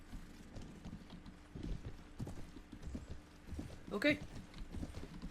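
Horses' hooves clip-clopping in a Mount & Blade battle, soft irregular thuds of several mounts with a short neigh, under a brief spoken word.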